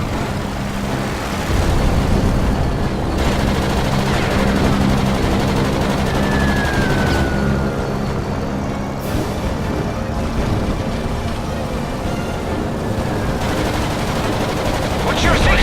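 Aircraft machine-gun fire in the WWII flight video game Blazing Angels: Squadrons of WWII, set over Dunkirk: steady loud rattling bursts over a constant engine drone, with radio voices speaking over the din.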